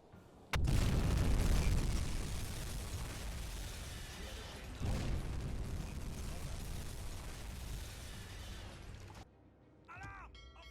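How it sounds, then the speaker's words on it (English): Torpedo explosions in the submarine game UBOAT: a sudden heavy boom opens a long rumbling roar, a second deep blast swells midway, then the rumble cuts off into quiet with brief faint tones. "I'm going to throw another couple of torpedoes at it"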